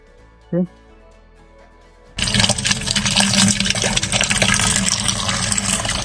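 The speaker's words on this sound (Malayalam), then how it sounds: "പൈപ്പ് തുറന്ന് കുറച്ച് വെള്ളം എടുക്കാം" After a brief knock and a moment of quiet, water from a pipe tap suddenly gushes into a bucket, a loud, steady rushing pour that continues to the end.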